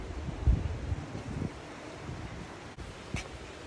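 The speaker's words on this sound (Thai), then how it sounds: "มีลมอย่างเงี้ย ทำให้เราไม่อยากทำอะไรนะ แถวบ้านแปนจะลมแรงแบบนี้ตลอดนะทั้งปีค่ะ" Strong wind gusting outdoors near a house, a steady broadband rush with buffeting microphone rumble and a few harder gusts, no talking.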